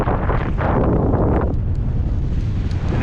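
Steady, loud wind buffets the microphone while cycling along a country road near Hood, Texas, a continuous roar with no speech.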